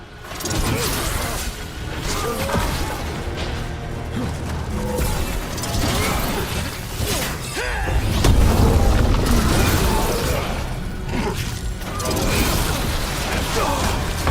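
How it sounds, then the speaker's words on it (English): Mortar fire and booming explosions in Dragon Age: The Veilguard, with mechanical clanks and creaks under a steady roar, and a heavier blast midway. "They've got mortars!"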